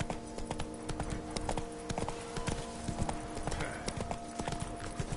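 Roach, Geralt's horse in Witcher 3, gallops at a quick, even clip-clop pace, the hoofbeats sounding close and moderately loud over a low steady hum.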